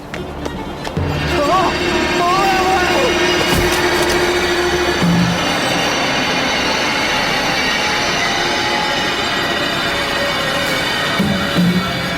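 A train rumbles steadily with squealing wheels and rattling carriages, loud and close, while a few voices speak over the noise, including an announcement ordering all passengers to leave the train.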